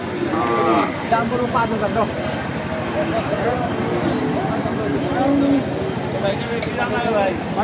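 Busy outdoor cattle market in Panchagarh, Bangladesh, with cattle lowing now and then beneath constant crowd chatter and nearby talking about buying cows.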